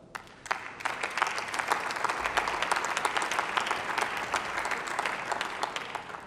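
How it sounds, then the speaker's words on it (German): Steady applause from a parliamentary chamber in the German Bundestag during a commemoration, many hands clapping densely and evenly for several seconds with no voices over it. "Applaus"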